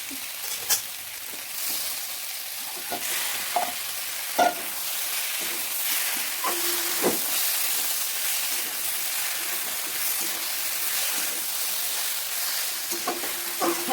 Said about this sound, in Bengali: এবার আমি এতে মাছের কাঁটাটা দিয়ে দিই